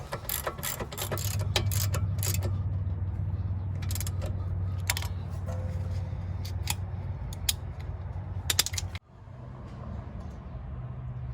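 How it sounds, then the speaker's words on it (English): A ratchet tightens the bolts on a Kia Forte brake caliper with a series of close, sharp clicks in quick bursts over a low background hum. Near the end a metallic clunk is followed by quieter shuffling. "Just going to take my ratchet and tighten these up."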